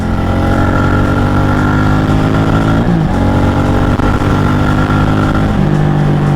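A Loncin CR4 250 (LX-250) motorcycle setting off and riding, its engine droning loud and close throughout with a steady buzzing tone, brief dips around gear changes, and strong wind rush.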